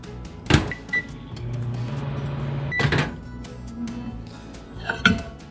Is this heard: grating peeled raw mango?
no